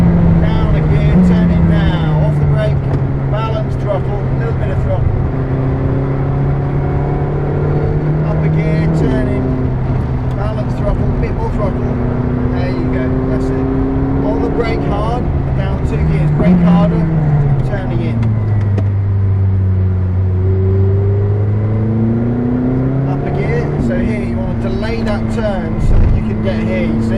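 A McLaren 620R's engine pulls hard around the Silverstone circuit. Its loud drone climbs in pitch, then drops sharply with each upshift and falls when braking for corners. A driving coach talks steadily over the engine throughout.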